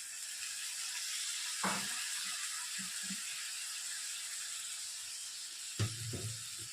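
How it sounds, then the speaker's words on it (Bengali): Gentle steady sizzle of spice masala with cumin powder frying in a pan after a splash of water, with a couple of brief scraping stirs standing out over the soft continuous hiss. "এবারে সামান্য একটু জল আমি দিয়ে দিচ্ছি যাতে মশলাটা পুড়ে না যায়।"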